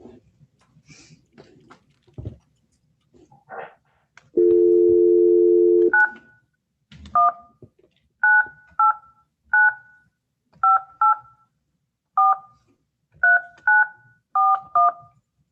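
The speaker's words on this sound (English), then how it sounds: "I'm going to call the phone number and find out what's going on here." Touch-tone dialing to a correctional facility: a dial tone is followed by a series of short, loud, evenly paced DTMF beeps in quick groups, with quiet handling noise before them.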